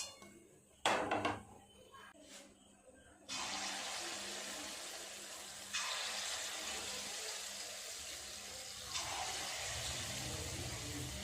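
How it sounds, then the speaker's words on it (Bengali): Banana fritters (kolar bora) dropped into hot oil, a steady broadband sizzle that surges in with each new batch and holds loud and close, with brief clatter at the start. "তেলটা ঠিকঠাক গরম হয়ে গেছে, এবার এক এক করে বড়াগুলো দিয়ে ভেজে নেব।"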